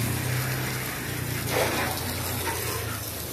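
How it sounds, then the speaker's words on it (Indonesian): A garden hose nozzle under high pressure sprays water onto the body of a Wuling Air EV electric car, a steady hissing gush with low pump hum beneath, close and continuous. "Kita siram-siram dulu bodinya."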